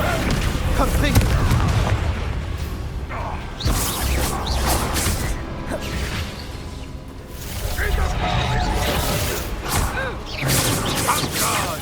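A Confringo blasting spell cast in the video game Hogwarts Legacy, heard as a string of booming thuds and whooshes mixed with busy combat noise, with voices shouting over the action.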